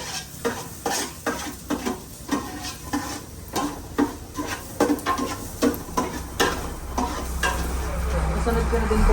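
Ginger and garlic cooking in a pot for salmon belly sinigang, with a run of sharp, rhythmic stirring and scraping strikes against the pot over a steady sizzle that swells louder toward the end.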